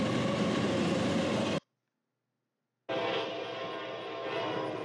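An eastbound Norfolk Southern NS200 intermodal freight train rolls past with loud, steady rail roar. The sound cuts to silence for about a second before the rumble returns.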